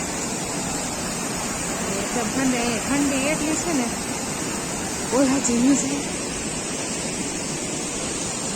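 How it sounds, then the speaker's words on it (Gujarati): Kempty Falls in Mussoorie pours with a loud, steady roar of cascading water that fills the scene, and people speak briefly over the continuous rush. "ફોલ છે વોટરફોલ અને એનો અવાજ એટલો આવે છે ને કે આપણો અવાજ એ ન સંભળાય"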